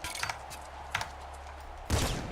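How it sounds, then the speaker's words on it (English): Gunfire in the video game Nuclear Throne: rapid bursts of synthetic shots over a constant low electronic hum, a few sharp cracks followed by a louder blast near the end. "This is freaking gunfire's a little too loud."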